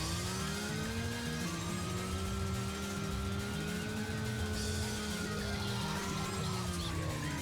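Car engine revving in the racing video game Initial D, a steady loud drone with rising and falling pitch that runs continuously throughout, with no pauses between revs.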